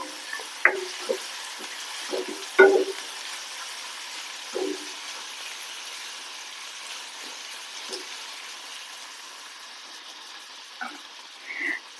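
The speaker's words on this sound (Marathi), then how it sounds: "मी ते मीठ टाकते कांदा कसा लगेच नरम पडतो आणि होऊन जातो" Chopped onion frying with salt in a pan for a chana palak dish, a low, steady sizzle with scattered soft scrapes and taps of stirring.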